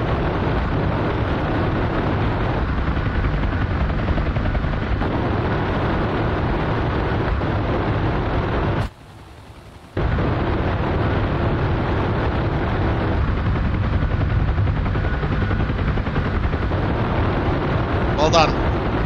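Helicopter gunship cannons firing in the DCS combat flight game, with explosions hitting the target under a loud, continuous roar of bursts and rotor noise, broken by a brief drop to near quiet.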